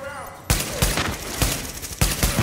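Rapid volleys of gunfire in the video game Tom Clancy's The Division crack loudly in close succession, with shots echoing in bursts while a voice speaks underneath.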